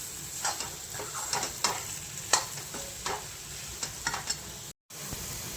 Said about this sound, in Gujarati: આપણા બટેકા વઘારાઈ ગયા છે